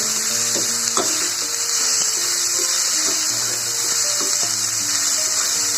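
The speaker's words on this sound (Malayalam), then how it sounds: "പച്ചനിറം മാറുന്നത് വരെ നമ്മൾ ഇളക്കി കൊടുക്കണം." Masala sizzling and frying in a pan for stuffed egg bhaji as it is stirred, a steady bright hiss with occasional soft scraping clicks of the spoon, close and continuous, with faint background tones and no talk.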